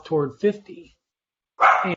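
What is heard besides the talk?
dog barking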